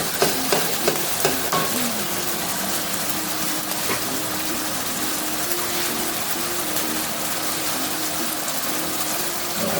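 Steady loud sizzle of a hot pan as tomatoes and other ingredients go in for a Jamaican-style beef liver dish, with a few stirring clinks early on and no talking.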